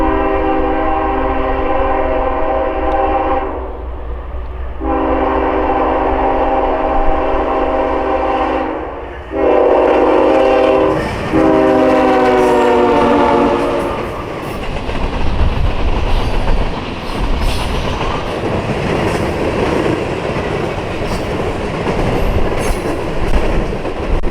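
CSX freight train led by a GEVO with an AC44 trailing, passing loudly and close with repeated horn blasts at the start, then a steady rumble and rail clatter of the cars rolling by.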